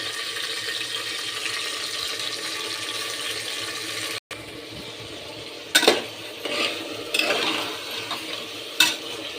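Sprouted beans and cut potato tipped into a hot oil tempering and stirred, giving a continuous close sizzle with intermittent scraping and clinks of a spoon against the pan.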